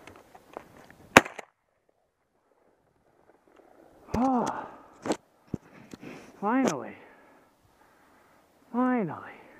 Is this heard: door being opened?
no